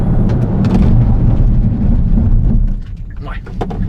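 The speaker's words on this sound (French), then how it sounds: "on va se faire un petit freinage" A Kia EV6 GT, a 585 hp electric sports car, braking hard: a loud, close roar of road and wind noise that drops off suddenly partway through as the car slows.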